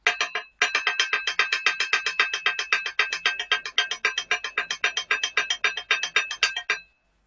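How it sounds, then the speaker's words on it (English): Quick, bright bell notes struck on a small dish in the style of a taiko bell part, played as a fast, steady, unbroken stream of strokes for about six seconds with no other sound. "the bell in taiko often plays quick notes that just keep going all the time."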